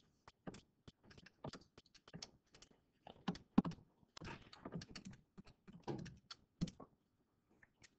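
Rapid irregular key presses as numbers are tapped into a calculator during a statistics class, close and fairly crisp, running in short bursts for several seconds with no talking.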